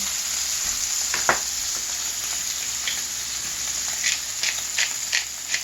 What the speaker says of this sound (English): Alright, this pan is heated, so let's get our other steak in